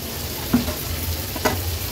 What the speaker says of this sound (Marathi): पुन्हा एकदा व्यवस्थित मी ह्या मीठामध्ये परतून घेते।